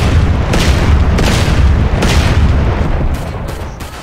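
A bomb blast in a GTA game with an Ant-Man mod: a loud, heavy booming rumble that fills the whole stretch, with a few bursts over it and a slow fade at the end.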